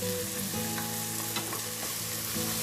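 Browned onions with garlic and ginger frying in a pan, giving a loud, continuous sizzle with a few soft stirring scrapes over it and no talking.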